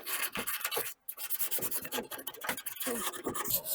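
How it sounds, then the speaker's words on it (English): Sandpaper curved by hand rubs slowly along the curved bodywork of a classic VW Beetle, giving a steady close rasping scrape in long strokes with one brief pause. "I'm going to curve some sandpaper to get that curve I need."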